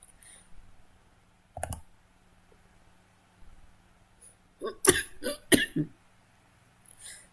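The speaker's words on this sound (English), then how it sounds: "So I'm just coughing for some reason." A man at a computer coughs several times in short bursts, one early and a cluster of harsh coughs later, close and fairly loud over a quiet room with faint mouse clicks.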